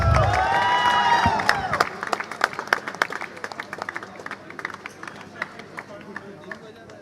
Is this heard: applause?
yes